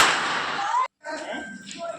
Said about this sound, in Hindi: बहुत डरती है बट मज़ा बहुत आता है इसको पटाखे फोड़ने में